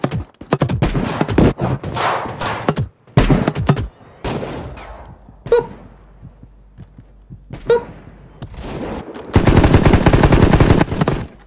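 Bursts of rapid gunfire from an online shooter video game, loud and dense, with clusters of shots early on, scattered pops in the middle and a sustained heavy barrage near the end.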